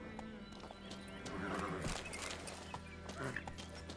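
Roach the horse in The Witcher 3 trots with rhythmic hoof clops and lets out a neigh midway, fairly faint in the mix of game ambience.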